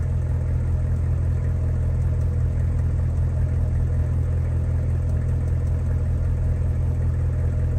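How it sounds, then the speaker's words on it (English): A vehicle engine idles at an intersection, heard from inside the cabin as a steady low hum and rumble that stays unchanged for about eight seconds with no speech. "Now we're sitting at an intersection at idle."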